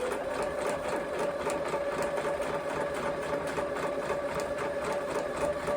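A sewing machine stitches a curved seam in a quilt block with a continuous, close, even whirring hum that holds steady throughout.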